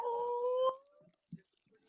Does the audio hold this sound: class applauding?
no